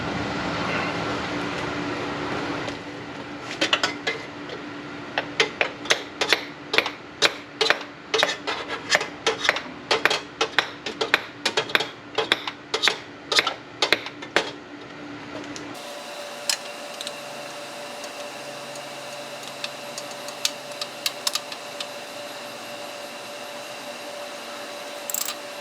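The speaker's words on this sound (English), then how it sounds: "I'm going to place the oil filter wrench on." Dense run of sharp metallic clicks and rasps from an oil filter wrench gripping and turning the oil filter on a Toyota Sienna during a car service, close and loud, then settling into a quieter steady hum with scattered taps.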